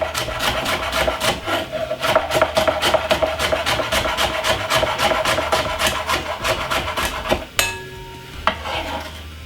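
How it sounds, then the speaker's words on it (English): A knife cuts spring onion on a cutting board with a rapid, steady run of close, crisp chops. The rhythm shifts briefly near the end, and no one speaks. "next we got some spring onion, which I'm going to cut up for flavor"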